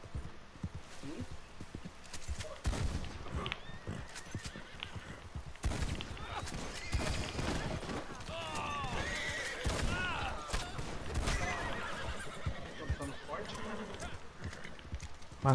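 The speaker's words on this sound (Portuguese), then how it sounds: "Os caras estão vindo a cavalo, aliás." Hooves clatter and horses whinny amid a busy Red Dead Redemption 2 Online soundscape during a fight at a desert fort, with someone talking over the action throughout.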